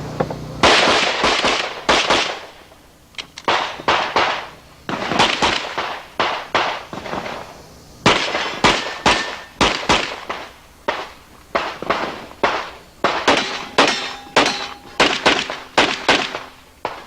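Pistols fire in rapid strings at a 1992 US practical shooting national match, sharp loud cracks coming in quick bursts of two and three with short pauses between, nearby and dominant, with no talk.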